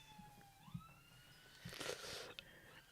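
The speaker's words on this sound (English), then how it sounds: "there's another ambulance" An ambulance siren passing outside, faint and distant with a rising wail, swelling briefly louder toward the end over low background rumble.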